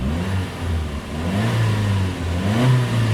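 Toyota Etios Valco 2013 engine turning over and running, revs rising and falling in steady swells with a continuous mid-range hum, close and loud with no talking.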